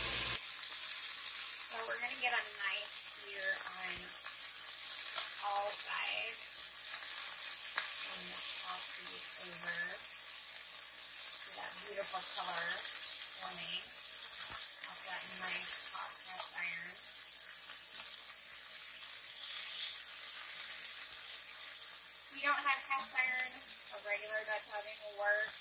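Beef chunks for a gnocchi beef stew sear in a Dutch oven with a continuous crackling sizzle and hiss, while a person talks over the cooking throughout.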